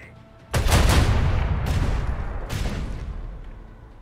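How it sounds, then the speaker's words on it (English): A volley of heavy macro cannon fire in the video game Warhammer 40,000: Rogue Trader erupts in a loud, booming burst, followed by further blasts about a second apart, with rumbling echoes fading away. "Macro cannons, volley."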